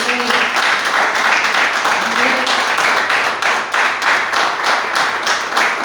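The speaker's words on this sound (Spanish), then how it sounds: "den un fuerte aplauso al Cristo de la Gloria" A church congregation applauds loudly in a steady, sustained wave of clapping, with a few voices mixed in.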